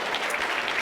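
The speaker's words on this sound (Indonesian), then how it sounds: "Ya, boleh tepuk tangan." Church congregation applauding during a service: a dense, steady wash of many hands clapping at once, close and even for the whole short stretch.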